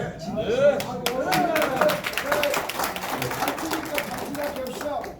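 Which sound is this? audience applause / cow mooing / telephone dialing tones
audience applause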